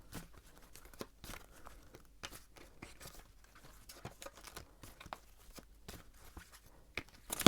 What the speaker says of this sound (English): So I'm gonna shuffle the cards now,